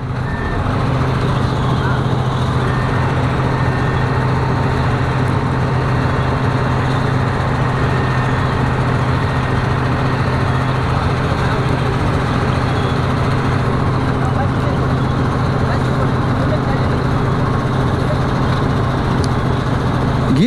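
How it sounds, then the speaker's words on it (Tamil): A paddy harvester machine runs in reverse, its engine droning loudly and continuously with a steady reversing beep over it, heard close up from the driver's seat. "ஓகே, இப்போ நம்ம ரிவர்ஸ் போட்டிருக்கோம் வண்டியில்"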